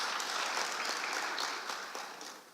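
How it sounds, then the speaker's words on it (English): Audience applause at a CEO summit in Ghana on growth and women's empowerment: a steady, dense wash of clapping from a large crowd that holds for a couple of seconds, then tapers off slightly near the end. "a round of applause."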